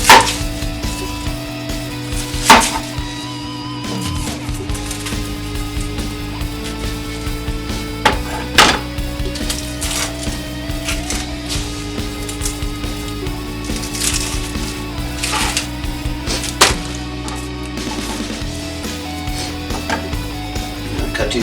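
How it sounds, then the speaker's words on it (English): Knife slicing an onion into rings on a cutting board, with a few sharp chopping strikes standing out over steady low background hum and faint kitchen clatter. "we're going to slice it up like you would for onion rings."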